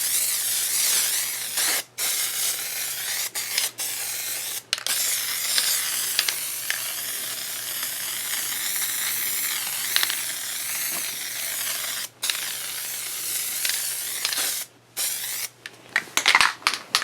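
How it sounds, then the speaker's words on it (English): Spray adhesive hisses from an aerosol can onto a speaker box in long, loud, close bursts, broken by brief pauses between passes. "So now we're going to spray it with spray adhesive"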